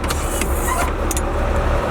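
A farm tractor with no brakes runs steadily at close range, its engine a constant low rumble with a few brief clatters on top and no talking.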